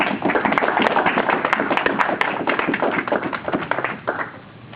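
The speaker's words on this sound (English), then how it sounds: "One more time, round of applause for the gentleman." Steady, dense applause from a crowd at a martial arts black belt promotion ceremony, loud and continuous with a few sharper claps standing out, tapering slightly toward the end.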